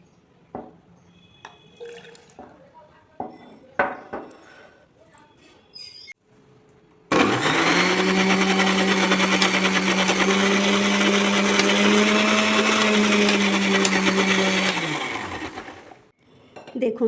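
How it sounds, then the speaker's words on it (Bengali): A blender grinds boiled red amaranth leaves with some of their cooking water, running steadily and loudly for about eight seconds after a few brief clicks and handling noises, then winding down. "দেখুন, খুব সুন্দর করে গ্রাইন্ড করে নিয়েছি।"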